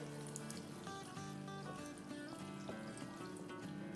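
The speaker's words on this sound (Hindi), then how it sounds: "अब इसमें हम डालेंगे 4 कप पानी।" About a litre of water poured into a blender jar over cucumbers for a homemade drink, a continuous gurgling stream close by with faint background music.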